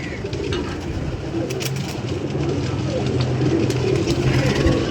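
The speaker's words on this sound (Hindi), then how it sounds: "वो पकड़ा हुआ कबूतर और लेके आई" A captured pigeon coos softly in repeated low, throaty calls over a steady background hum, with light household noise around it.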